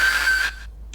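A heavily processed paper towel tear becomes a steady, whistling, tonal squeal that holds for about half a second, then cuts off, leaving a brief faint hiss.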